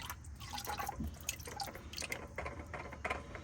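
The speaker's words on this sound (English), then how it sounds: "Just twist it off of there and let the excess oil go into the catch pan." Motor oil drains from a 2016 Kia Optima with a 2.4L engine into a catch pan, making a faint, irregular trickle and patter of dripping liquid.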